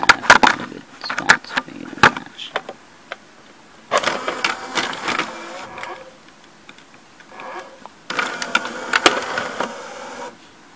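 The loading motor mechanism of an NEC N966U VCR turns in two bursts of mechanical whirring and rattling, each lasting about two seconds, between scattered clicks and handling knocks.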